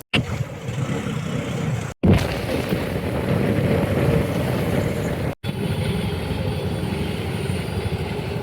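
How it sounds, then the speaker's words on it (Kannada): A metro train passes on a busy Karnataka street, a loud, steady broadband rumble and roar that continues throughout, broken by two brief cuts, with no talking. "ಓಹೋ, ಮೆಟ್ರೋ ದೇಕೋರಿ, ಮೆಟ್ರೋ"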